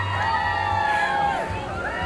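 A large crowd outdoors cheers, whoops and shouts with children's voices mixed in, loud and continuous throughout.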